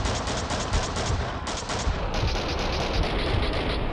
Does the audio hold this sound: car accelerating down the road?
no